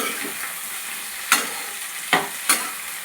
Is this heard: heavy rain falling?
no